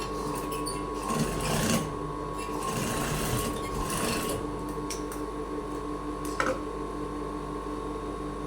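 A sewing machine runs steadily, stitching the shoulder seam of a blouse being altered, its continuous mechanical whir humming close up with small rises and dips, and faint talk occasionally under it.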